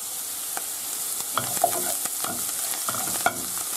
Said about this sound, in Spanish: lo que hacemos es echar el perejil